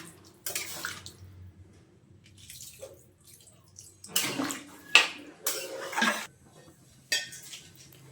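Water is poured into a pot of jackfruit seed, sesame and potato curry, coming in a few splashing bursts with clinks of the pot and utensils between them, close and fairly quiet.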